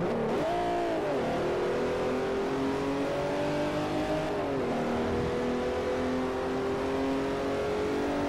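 A race car in Forza Motorsport 4 revs hard under throttle, its engine note rising, dipping and climbing again, then holding a steady drone, loud and close with no talk.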